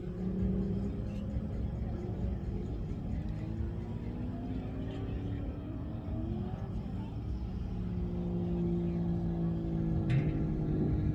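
A Ford F-550 Thor Magnitude Super C motorhome rounds a corner with a steady, heavy engine rumble that swells slightly as it nears, loud and continuous throughout.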